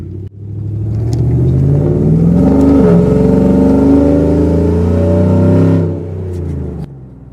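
A car's engine, fitted with a Black Bear Performance custom tune that disables 4-cylinder mode, catches and holds a loud, deep, steady drone for several seconds before dropping back to a lower idle. The sound is close, with no speech.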